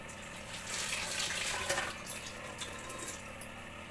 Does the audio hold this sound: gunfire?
no